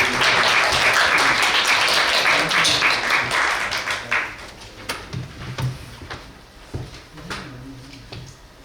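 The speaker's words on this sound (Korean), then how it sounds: "큰 박수 부탁드립니다." Audience applause at a Korean research symposium as a speaker is welcomed to the stage, starting as a full, dense ovation and then thinning into scattered individual claps that fade out.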